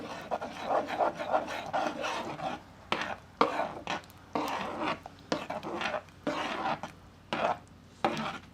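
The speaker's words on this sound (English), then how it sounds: "then you want to mix this really good together" A spoon or whisk works a thickener into a blackberry sauce for a keto cobbler, giving close, irregular scraping and tapping strokes against the bowl, fairly faint, with no talking.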